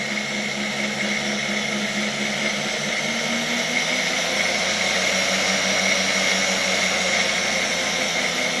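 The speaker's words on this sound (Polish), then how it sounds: "ten silnik działa teraz bez obciążenia" Electric motor of a 1958 RFSG three-brush floor polisher running without load, a steady whining hum with a tone that dips slightly in pitch midway, sustained and close with no voices.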